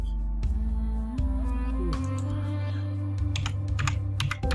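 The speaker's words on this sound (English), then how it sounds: "Let me just type in digital prints." Typing on a computer keyboard: a run of crisp, closely spaced key clicks, clearest toward the end, over a steady low hum.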